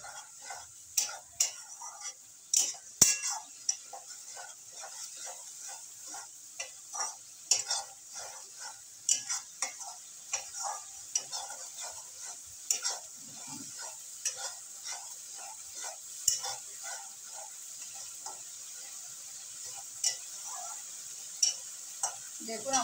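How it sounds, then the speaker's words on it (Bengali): Tomato frying in a pan for a carp kalia curry, a steady soft sizzle under repeated close scraping and clinking strokes of a spatula stirring, no voices. "টমেটোটা ভালো করে মিশিয়ে আমি একটু ভালো করে ভেজে নিচ্ছি।"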